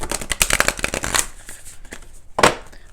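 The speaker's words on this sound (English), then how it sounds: "let's do 4 major shuffles here and really pull the energy" Tarot cards being shuffled, a quick fluttering riffle of cards followed by a pause and a final short snap, close and fairly clear.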